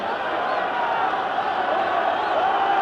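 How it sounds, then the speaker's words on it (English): A large crowd at a 1968 rugby union match between Argentina's second XV and Wales cheers and shouts in a steady, loud, sustained roar, with scattered whoops. "And the crowd really getting excited now."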